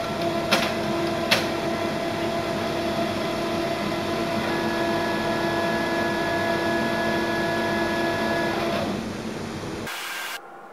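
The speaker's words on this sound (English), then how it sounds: "once the printer has restored the wireless, it will automatically restart." Steady mechanical whirring and humming of an HP Color LaserJet Pro MFP M183 printer restarting, with a couple of sharp clicks early on, winding down and stopping near the end.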